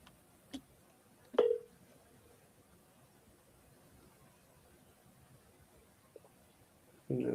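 A few faint telephone keypad tones, isolated short beeps spread out over a quiet background, with one more at the end.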